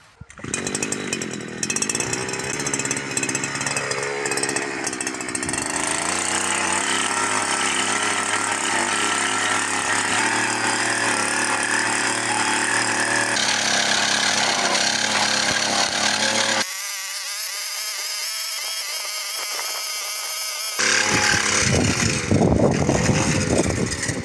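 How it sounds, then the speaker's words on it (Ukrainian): A petrol brush cutter fitted with a weeding hoe attachment works garden soil, its two-stroke engine whining loudly and steadily, pitch shifting under load, briefly dropping off before roaring back near the end. "Отака бензосапа. Зараз спробуємо."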